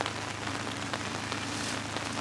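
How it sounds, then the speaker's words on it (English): Heavy rain patters densely and evenly on a roof overhead, a soft continuous drumming of many drops with no voices. "you can hear the pitter-patter on the roof of this thing quite clearly"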